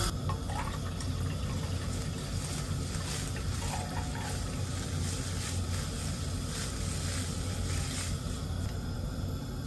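Water from a jug pours into a cooking pot on a cooker, a continuous splashing, gurgling flow close by, with no one speaking.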